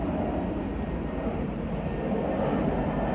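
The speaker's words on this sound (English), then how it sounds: "And you can hear airplanes now." Aircraft engine noise near a wooded plane crash site, a steady low broadband roar from airplanes flying overhead, continuous and moderately loud with no talking.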